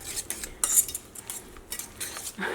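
A spoon stirs an egg and cabbage batter in a bowl, giving quick, light metallic clinks and scrapes in an uneven rhythm, close and fairly soft, with no talking.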